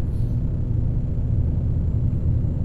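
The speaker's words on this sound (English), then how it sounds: "Just listening to that engine there." Heavy truck engine in American Truck Simulator, a steady low diesel rumble at cruising speed that stays even and fairly loud throughout, with no voices.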